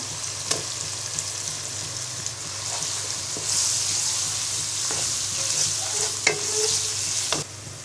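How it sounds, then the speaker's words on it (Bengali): Chopped onion frying with garlic paste and ginger paste in a pan for a mixed vegetable soup: a steady, close sizzle broken by occasional sharp clicks and scrapes of a stirring spoon. "পেঁয়াজটাকে হালকা ভেজে নিব এবার দিয়ে দিব এক চা চামচ পরিমাণ রসুন বাটা এবং এক টেবিল চামচ পরিমাণ আদা বাটা"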